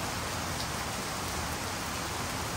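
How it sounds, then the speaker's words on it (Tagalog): Steady rain falls continuously during a typhoon morning, a dense even hiss of drops on surfaces with no other sounds rising above it. "Para na medyo naghinay ng ulan."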